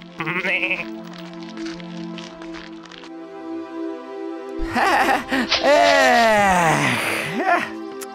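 A cartoon ram bleats loudly and at length, a wavering, quavering cry that rises and falls, after a stretch of music and a short voiced sound.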